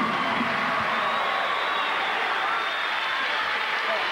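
A basketball arena crowd of Saluki fans roars and cheers in a steady, loud wash of voices and applause late in a tight college game, with no break in the noise.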